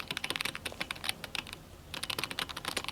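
Rapid typing on a computer keyboard to enter a search, with quick bursts of clicky keystrokes, a brief pause midway, then more fast typing, close and clear with no talking.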